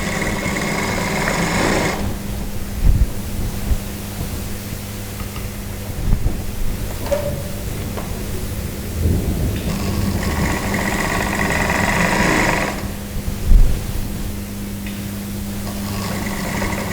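A sewing machine stitches dress pieces together in loud, steady motor-driven runs of several seconds each, separated by quieter pauses and a few soft handling knocks, close up with no talking.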